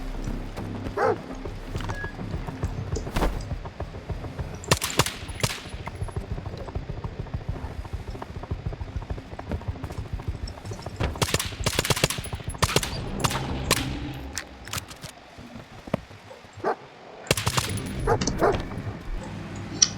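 Dogs bark repeatedly in the game S.T.A.L.K.E.R. 2: Heart of Chornobyl, sharp yaps mixed with rapid gunfire-like bursts over a busy background, pausing briefly before the barking resumes.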